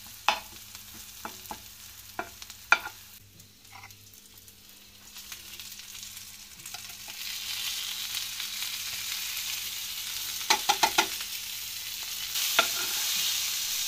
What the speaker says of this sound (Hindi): तो मैंने सोचा इसी तवे के ऊपर मैं ये पतीड़ को तड़का लगा देती हूँ।